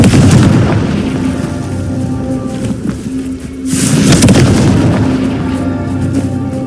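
Booming blasts of the Confringo spell in the Hogwarts Legacy video game, a dense loud rumble throughout with a sharper burst midway and no clear speech.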